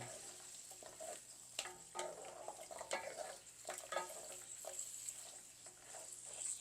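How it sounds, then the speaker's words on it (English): Short ribs stirred with dark soy sauce in a hot pan, giving a soft steady sizzle with scraping spoon strokes at irregular intervals, quiet and close with no talking. "we're going to stir this all together real good"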